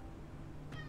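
A single short cat meow rises near the end of a quiet indoor moment with a faint steady hum underneath.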